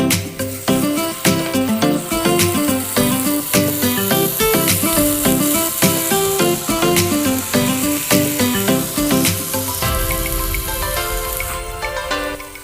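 Tomatoes frying with chicken and spices for palak chicken, giving a steady loud sizzle under background music that drops away near the end, leaving a rougher, noisier crackle of frying.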